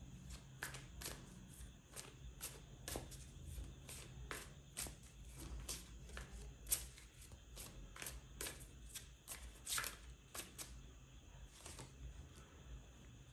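Tarot cards are shuffled to draw a clarifier, giving a steady run of faint, close flicks and soft slaps. An irregular patter keeps going over a low background hum.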